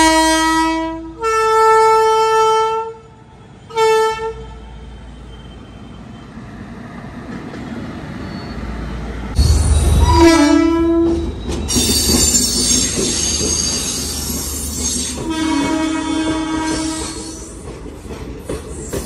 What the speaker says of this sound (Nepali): ब्रोडगेज ट्रेन रहेछ।